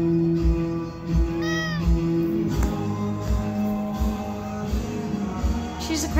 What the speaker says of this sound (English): She's a crazy cat.